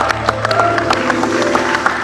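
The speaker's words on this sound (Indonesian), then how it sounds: "beri tepuk tangan dong pemirsa" A studio audience on an Indonesian TV talk show claps in steady, dense applause throughout. The sound is loud and close, with a faint murmur from the crowd underneath.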